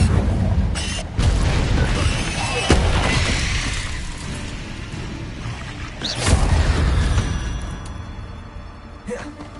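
Repeated magical blasting-curse explosions in the Hogwarts Legacy video game: loud booming bursts with crackling debris, one early and a bigger one midway, separated by rumbling noise.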